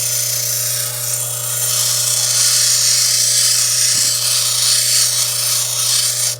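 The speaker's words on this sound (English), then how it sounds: "I'm going to really have to take this one over onto the finer wheel and do the finer things to it." A lapidary grinding wheel shaping a piece of quartz, a steady motor hum with a bright, gritty whine of stone on the wheel rising and holding, then dropping off abruptly at the end.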